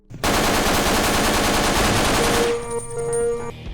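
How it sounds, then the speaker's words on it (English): Rapid automatic MP5 fire from a Half-Life 2 mod, a loud sustained burst of close gunshots lasting over two seconds before tapering into ringing game ambience. "The MP5 here feels and sounds really good in the combat sections,"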